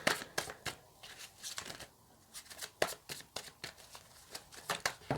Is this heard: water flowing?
no